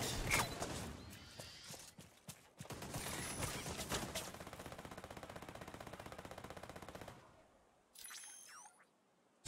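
A turret in The Division 2 shooter rattles out sustained rapid machine-gun bursts, loud and dense, with a brief lull near the end before scattered clicks and a final shot.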